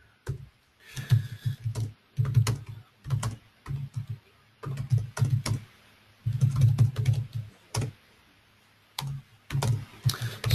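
Bursts of typing on a computer keyboard, close and clear, with quick clusters of key clicks separated by short pauses and no talk.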